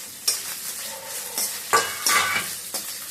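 Ivy gourd pachadi ingredients are roasted in a pan over low heat, a soft sizzle punctuated by several sharp scraping stirs of a utensil against the pan, close and without talk.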